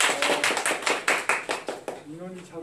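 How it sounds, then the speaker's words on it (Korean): Applause rises from an audience at a school-violence-prevention teacher training in Korea as a guest lecturer is introduced, a burst of clapping that thins out within about two seconds and leaves a voice talking. "큰 박수 부탁드립니다."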